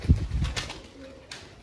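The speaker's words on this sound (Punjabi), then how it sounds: "ਆਹ ਫੜ ਲਿਆ ਬਾਈ ਮੈਂ ਕਬੂਤਰ" Fancy pigeons being caught and caged coo in short throaty bursts close by, with a faint flutter and rustle around them.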